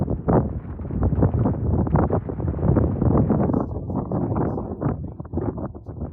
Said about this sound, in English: Strong winds tore heavy roofing panels off the terminal.